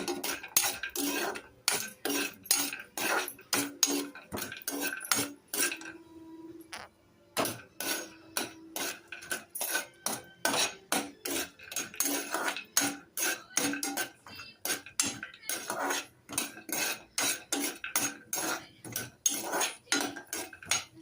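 Cashew nuts and almonds frying in a pan for rava laddu, with a spoon or spatula scraping and clinking against the metal in quick, steady strokes that run almost continuously, pausing briefly once, close and fairly loud with no talk.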